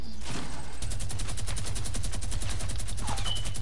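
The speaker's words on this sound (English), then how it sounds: "Someone shooting me." Rapid bursts of automatic gunfire from the video game Fortnite, a dense fusillade of sharp repeated shots that runs almost continuously and loud, with no talk over it.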